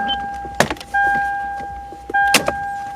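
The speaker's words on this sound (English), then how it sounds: "You can just turn it on once to get the steering wheel to come out." The power steering column of a Lexus GX motors outward in two steady electric whirs, each one bracketed by sharp clicks and knocks from the cabin close by.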